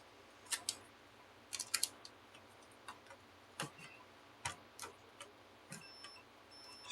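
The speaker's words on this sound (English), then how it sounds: "Shut up, multimeter. Why are you always going to be so loud?" A multimeter on a bench during vintage console and arcade board repair gives out a series of short, sharp, irregular beeps and clicks, faint and isolated against a quiet background.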